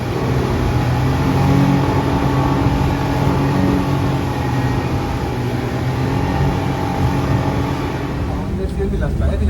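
A speedboat engine roars steadily with water and wind noise throughout during a transfer in the Maldives, while people talk over it; the noise drops off near the end.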